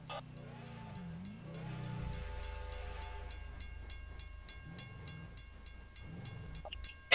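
Steam-era train in the Gmod Western build of the Misty River Railway rolls steadily over rails at a crossing, with a deep engine rumble, regular rhythmic clicks of wheels on joints, and a brief bell-like ring near the end.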